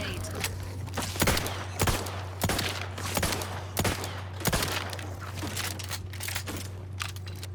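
Repeated gunfire bursts from hipfiring in The Outer Worlds 2, sharp cracks at irregular intervals over a steady low in-game hum, with a voice talking in between.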